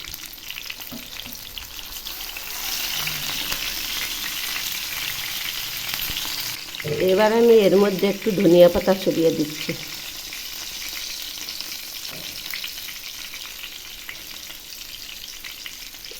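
Pomfret fish frying on low heat for a Bengali-style masala fish fry, with a steady soft sizzle through the whole stretch and a voice talking over it in the middle.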